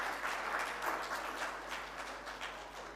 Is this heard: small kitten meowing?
no